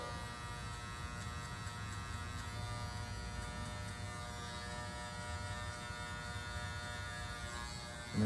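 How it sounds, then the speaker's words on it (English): Electric hair clipper buzzing steadily at close range while cutting a skin fade, a continuous even drone with a fixed motor hum that runs unbroken throughout. "Now my clipper is completely closed, mimicking that line that I set."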